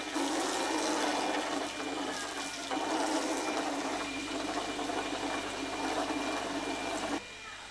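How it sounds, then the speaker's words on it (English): Water runs and splashes steadily while a pony's face is washed, a continuous close rushing wash that carries on for several seconds before dropping slightly at the end. "Washing his face now."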